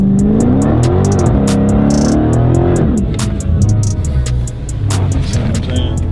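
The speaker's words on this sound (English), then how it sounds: "What this will do, apply the brake pressure and it'll warm up the tires." A Dodge Scat Pack V8 revs hard on line lock while warming its tires, a loud, close engine rising and falling in pitch with sharp repeated pops and crackles over a continuous roar.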